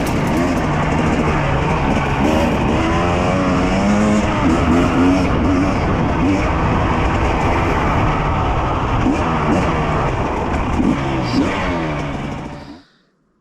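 Husqvarna TE250 dirt bike engine while riding a mountain trail, a continuous loud buzzing drone with rising and falling pitch as the throttle changes, close and unbroken until it cuts off at the end.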